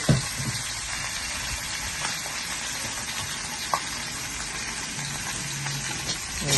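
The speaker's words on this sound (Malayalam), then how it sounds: "ചൂടായ എണ്ണയിലേക്ക് ഫിഷ് നമ്മൾ ഇടുന്നു" Steady crackling sizzle of sea bream frying in hot oil, loud and continuous throughout with a few sharper pops, no voices.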